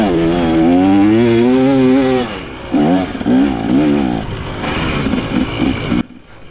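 Dirt bike with a 500 engine ridden hard along wooded single track, its engine revving loud and close with rising and falling pitch, easing off and on between throttle bursts before cutting out near the end.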